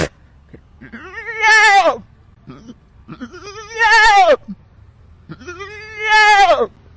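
A voice imitates a goat bleating three times, each a wavering, nasal bleat of about a second, separated by short pauses.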